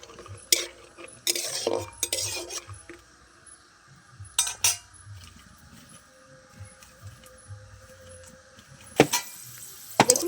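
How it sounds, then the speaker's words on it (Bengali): Peanuts frying in hot oil in a pan, stirred with a metal spoon that gives several sharp clinks and scrapes at irregular intervals over a soft background sizzle, close by. "এবার চিনি বাদামগুলো আমি দিয়ে দিচ্ছি এবার একটু ভেজে নেব নেড়ে চেড়ে"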